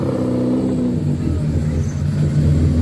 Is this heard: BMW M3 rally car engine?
yes